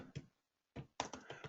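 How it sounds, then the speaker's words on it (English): Keystrokes on a computer keyboard in short bursts of clustered taps, a brief pause between them, fairly quiet and close with no voices. "I'm not typing very good tonight."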